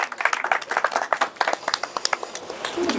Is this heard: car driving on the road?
no